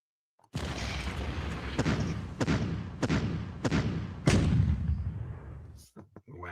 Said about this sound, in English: I do want to fire this fucking gun as it goes.